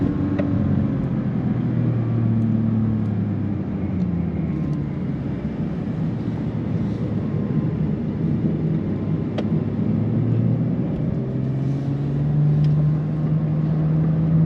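A 2022 Bentley Continental Speed pulls hard around a race track, its engine a loud, continuous rumble heard from inside the car, with pitch sweeping up and down through changes in throttle over the whole stretch.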